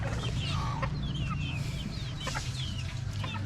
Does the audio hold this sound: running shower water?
no